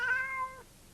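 A single clear cat meow, close and fairly loud, with a rising then falling tone that fades out after about half a second.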